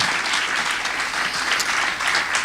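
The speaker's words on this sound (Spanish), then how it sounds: "Dale un fuerte aplauso al Señor." A church congregation claps together in sustained, even applause praising the Lord during a Friday evening service, a dense wash of many hands with no voices over it.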